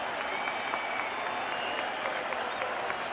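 Stadium crowd at a Yankees vs Red Sox playoff game in Boston roars and applauds in a steady, dense wash of cheering with scattered whistles, filling the space continuously without letup.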